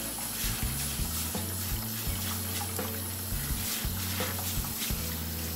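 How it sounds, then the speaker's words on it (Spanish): Rice rinsed in a strainer under cold running tap water: a steady, close, full rush of flowing and splashing water that holds at one level throughout, with no voices. "Vamos a poner el arroz en una coladera"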